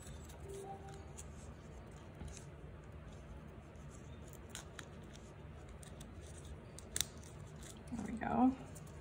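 Scissors snipping through paper cardstock at a craft desk, soft crisp cuts near the end, close and fairly quiet over a low room hum.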